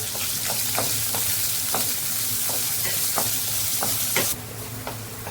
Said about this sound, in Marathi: कांदा इथे दोन मिनटं परतून झालेला आहे